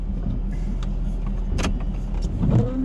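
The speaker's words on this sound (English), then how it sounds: "15 to 20 cars coming down the road right now, coming from the Yarmouth side" Cars pass along a road during a heavy snowstorm, a steady close rumble of traffic with a brief louder swish as one vehicle goes by, and no talking.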